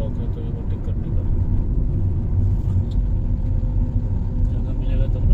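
Heavy, continuous low engine rumble from a road vehicle overtaking on a mountain road in the hills between Rishikesh and Karnaprayag after heavy rain and landslides, close and steady throughout.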